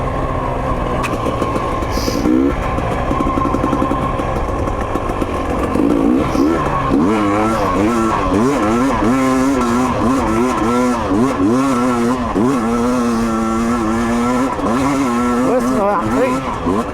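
A 2022 GasGas/KTM/Husky dirt bike engine revs on a trail, its pitch rising and falling in rapid repeated bursts as the throttle is worked, loud and close, with voices talking over it at times.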